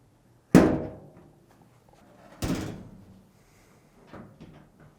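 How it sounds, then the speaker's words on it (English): The top cover of a Samsung dryer is pushed forward and locks in place, two solid plastic thunks about two seconds apart, then a softer knock, close and with no talk. "Continue to push forward until it locks back in place."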